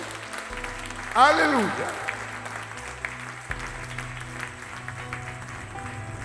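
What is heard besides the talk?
congregation applauding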